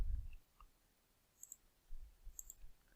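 A computer mouse clicks a couple of times, quiet and close, with tiny crisp taps over a faint room hum.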